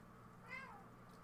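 A cat gives a single faint meow, a short rising-and-falling cry in the middle of a quiet room with steady low background hum, no voices.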